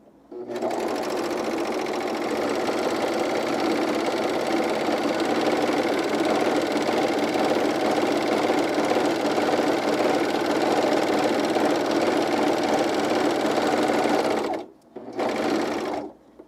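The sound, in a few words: sewing machine running, serging underwear fabric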